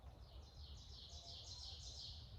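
Birds chirp in repeated short bursts near a tent at a campsite in Hills Creek State Park, faint and steady over a quiet outdoor hum.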